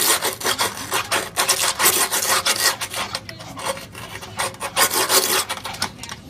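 A trowel scrapes and pushes runny grout beneath a steel Speed Queen washer base, producing a close, rapid series of rough rasping strokes in an uneven rhythm, with no talking.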